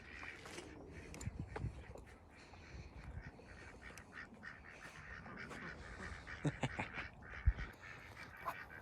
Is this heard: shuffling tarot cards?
no